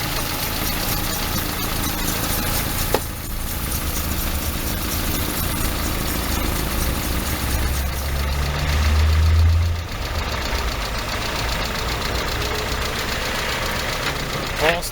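A Peugeot 306 car engine idles steadily nearby, a continuous low rumble with a slight knocking texture and a brief swell in loudness partway through, with talk faintly mixed in.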